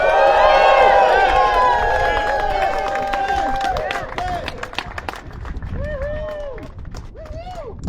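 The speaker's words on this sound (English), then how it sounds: "Please give Vicki a very well-deserved round of applause." Outdoor political rally crowd breaking into applause and cheering for a speaker, loud clapping and hubbub that gradually thins out, with scattered whoops and a voice talking over the tail end.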